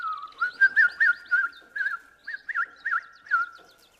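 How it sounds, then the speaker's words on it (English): A person whistles a quick, warbling, bird-like tune in a period drama, with short trilled phrases repeated close to the listener over a near-silent background. "you're screwing your lips up too harshly for whistling"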